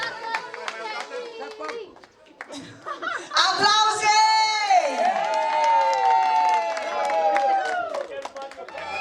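A wedding crowd claps and cheers with shouts and whoops, lively and fairly close, with excited voices mixed throughout.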